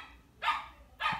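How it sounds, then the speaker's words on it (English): Two sharp, fairly loud dog barks about half a second apart, close by in a quiet workshop. "sorry about the dogs barking there"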